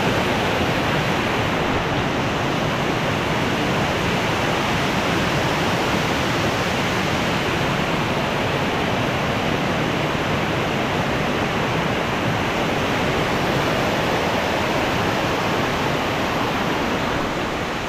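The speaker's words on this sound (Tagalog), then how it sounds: "Wow. Ang lakas ng falls." Powerful waterfall pounding down in a lush natural setting, an unbroken loud roar of rushing, crashing water that fills the scene evenly from start to finish, with no talking.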